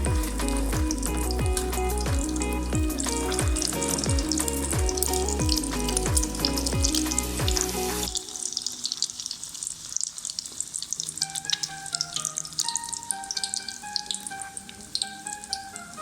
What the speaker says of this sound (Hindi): इसी तरह हम सबको तैयार करके फ्राई कर लेंगे।